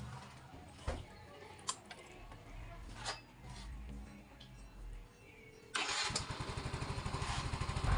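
A Honda Mio i 125 scooter engine cranks and catches near the end, settling into a close, rapid putter, after quieter clicks and handling sounds, with some talk.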